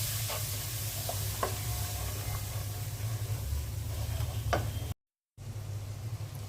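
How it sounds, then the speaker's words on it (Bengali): Spice paste with a little water cooking in a pan for a beef and chana dal curry, a steady low sizzle with occasional scraping stirs, quiet and without talk, cut by a brief gap of silence. "মশলাটা ভালো করে কষিয়ে নিব।"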